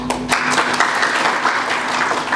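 A crowd claps during a former minister's political speech outdoors in front of Tribhuvan Park, loud, sustained applause from many hands with a faint voice briefly at the start.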